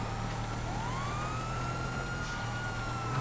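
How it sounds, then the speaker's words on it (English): Police siren on a Police Rancher in the game GTA, a rising and falling wail heard steadily over a constant engine rumble, fairly faint and without talk. "Absolutely get those sirens on."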